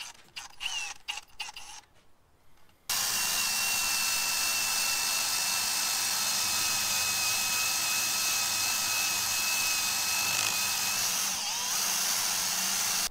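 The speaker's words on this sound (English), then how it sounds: "So the correct thing for that, thank you, is called an eraser wheel." An eraser wheel on a power tool works adhesive residue off a truck body with a steady, high-pitched whine that holds for about ten seconds after a few short bursts and a brief pause.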